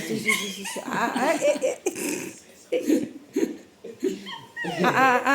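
A dog whines and yips in short bursts while people laugh and chuckle nearby, the sounds close and overlapping.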